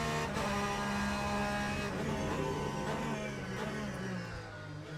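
Race car engine from Le Mans Ultimate, droning steadily with harmonic whine that rises and falls through gear changes, moderately loud and continuous with no talk over it.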